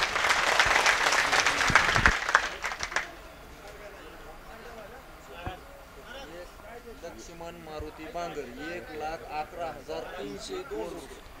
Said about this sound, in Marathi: 1 लाख टाळ्या वाजवा